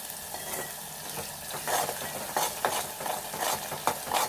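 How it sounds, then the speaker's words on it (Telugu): Ginger garlic paste fries in oil for a brinjal tomato curry, giving a continuous close sizzle with brief scraping stirs and light taps of the spoon, and nobody speaks. "ఈ అల్లం వెల్లుల్లి పేస్ట్ మంచిగా వేగనియాలి నూనెలో"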